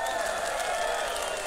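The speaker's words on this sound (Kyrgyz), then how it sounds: "колдоп коелу, катуура кол чабуулар барбы экен?" A crowd at a public meeting in Toktogul with the Kyrgyz president claps continuously, a dense, even patter of many hands held at a steady level throughout.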